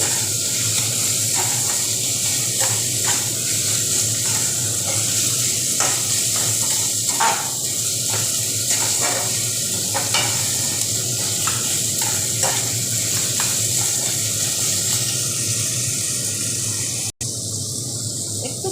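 Finely chopped tomato added to a pan for egg tarka, frying with a steady loud hiss and scattered crackles and stirring clicks throughout, with no voices.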